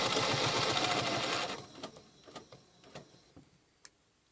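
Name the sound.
sewing machine stitching quilt along ruler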